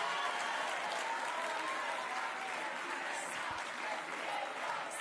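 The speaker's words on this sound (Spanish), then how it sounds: "Oigo aplausos." Sustained applause from a crowd at a public talk, dense and even clapping throughout with a faint murmur underneath.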